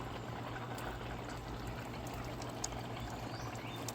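Water drains from hydroponics buckets, trickling and pouring steadily in a quiet, continuous wash, with a low hum underneath and no clear breaks.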